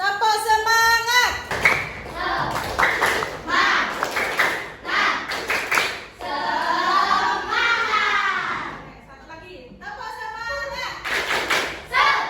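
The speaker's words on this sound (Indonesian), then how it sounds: "Yuk semuanya, tepuk semangat." Schoolchildren in an Indonesian classroom chant in unison with rhythmic group clapping, loud and close, sung syllables alternating with bursts of hand claps and thuds.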